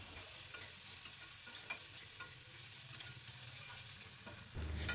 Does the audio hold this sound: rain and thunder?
no